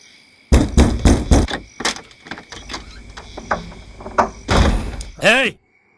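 A door is knocked on and then opened in a horror film, with a series of sharp, loud thumps and bangs, a creaking handle rattle and a brief high squeak at the end, mixed with voices.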